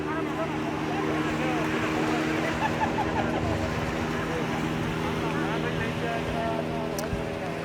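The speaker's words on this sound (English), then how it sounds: "See the speedboat." Speedboat motoring on the sea off the beach at Mandvi town after sunset, a steady engine drone mixed with surf and wind, with voices and lively beach chatter underneath throughout.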